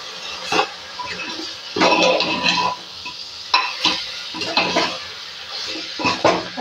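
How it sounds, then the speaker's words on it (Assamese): Mutton curry with spices and Kashmiri red chilli being stirred in a pan, a spoon scraping and clattering against the metal in repeated bursts at close range, with a soft sizzle underneath. "গোটেইখিনি ভালদৰে লৰাই দিম।"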